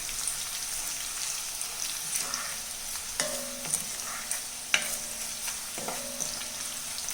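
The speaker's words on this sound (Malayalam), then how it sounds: "ഇതിനകത്തിപ്പോൾ നമ്മൾ 1 സ്പൂൺ ഉപ്പിട്ടൊന്ന് ഇളക്കി കൊടുക്കാം." Salt being stirred into lemon pickle in an iron pan gives a soft, continuous sizzle and scraping, with a few sharper spoon knocks against the metal and no talking.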